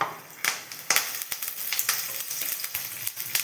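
Sliced garlic, chopped ginger, green chillies and curry leaves fry in hot oil with mustard seeds for a simple curry, a bright, steady sizzle broken by sharp spattering pops and stirring scrapes, with no talking.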